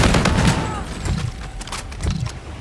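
Gunfire in the video game Call of Duty: Infinite Warfare, with loud, dense bursts of shots and booming impacts that fade into rumbling echoes. Two or three heavy waves follow one another closely, with no clear speech.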